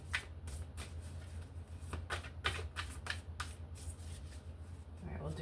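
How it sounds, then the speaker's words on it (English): Rapid crisp riffling of tarot cards shuffled several times in quick bursts, close and fairly quiet, over a low steady hum. "Give it a couple more shuffles."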